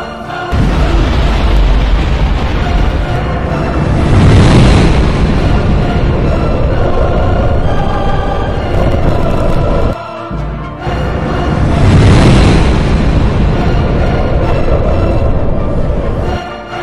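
Huge rumbling explosion meant to depict the Big Bang, a dense roaring blast that swells and sustains, cuts off briefly near the middle, then surges again just as loud, with no voices.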